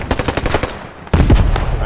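A machine gun in the video game Squad 44 rattles off two loud, close bursts of rapid fire separated by a brief pause, the second burst heavier and fuller.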